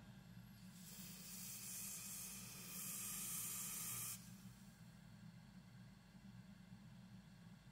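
A steady burst of freeze spray from a can hisses for about three seconds, bright and close, then cuts off abruptly, leaving a low electrical hum from a noisy 1960s Magnavox transistor amplifier underneath.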